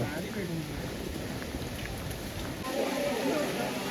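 Steady rain patters on a surface in a continuous hiss during a heavy downpour on the way to Echo Point, Matheran, with voices speaking faintly underneath.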